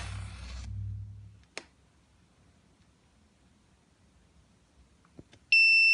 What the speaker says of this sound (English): Whenever the temperature rises over 24, the buzzer will make a sound.